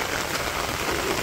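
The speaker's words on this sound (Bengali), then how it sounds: "বৃষ্টি কিন্তু শেষ হয় নাই" In a Bangladeshi village in the rainy season, a continuous shower patters on the ground and roofs nearby, a steady, loud wash of drops with no break and no voices.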